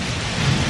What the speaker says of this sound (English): You can hear it thundering and lightning right now.